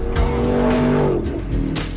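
A supercharged Factory Five Roadster race car, a Shelby Cobra replica, growls loudly while tires squeal and skid in short bursts, close and intense.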